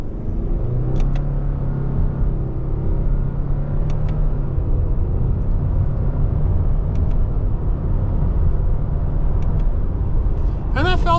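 A 2024 Subaru Impreza Sport with a CVT held in manual mode pulls away from a slow roll, its engine drone rising steadily and loud inside the cabin, with faint clicks throughout.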